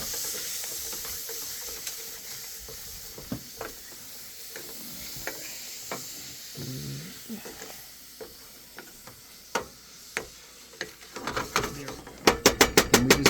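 Breakfast burrito filling sizzles in a pan over a campfire at an outdoor camp in Colorado, a soft steady hiss under scattered clinks and scrapes of stirring, building to a quick run of sharp utensil taps at the end.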